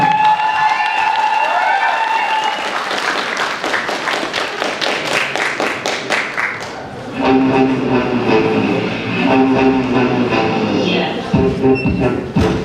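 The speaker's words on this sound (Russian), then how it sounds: "Громкие аплодисменты." Loud audience applause at a university KVN comedy contest, sharp rhythmic clapping in unison that gives way to sustained crowd clapping under music, fairly close and strong.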